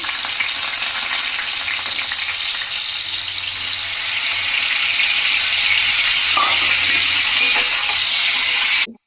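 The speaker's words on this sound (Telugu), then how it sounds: "ఆయిల్ వేడెక్కిపోయిందండి. ఇప్పుడు మనం శుభ్రంగా కడిగి పెట్టుకున్న వంజరం ముక్కలు, ఈ వంజరం ముక్కలు ఇందులో వేసేసుకోవాలి" Washed seer fish pieces frying in hot oil, a loud, continuous close crackle and hiss that holds steady throughout with one brief clink, then cuts off abruptly.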